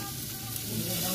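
Onion and garlic sauté in a hot pan, giving a loud, close, continuous sizzle with no talking over it.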